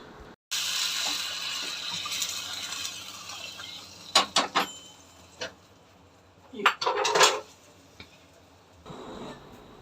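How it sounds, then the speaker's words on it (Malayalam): Mustard seeds fry in a pan for buttermilk curry, with a steady sizzle broken by sharp clusters of crackling pops, some louder than others. "അപ്പോൾ മോരുകറിക്കുള്ള കടുകാണ് ഈ വറക്കുന്നത്."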